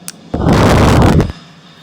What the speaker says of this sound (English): The jet explodes while it crashes into the ground.